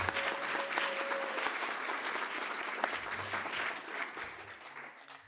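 Sustained applause from an audience at a hall of fame induction ceremony, honoring a group of newly named inductees; dense, steady clapping that carries on without talk.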